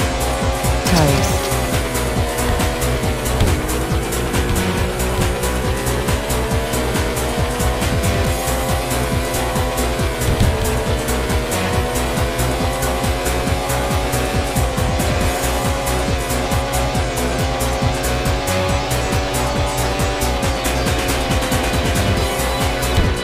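Race car engine revving steadily from the Retro Racing video game, with rising and falling engine tones and occasional tire squeal, loud and continuous throughout with a backing music bed.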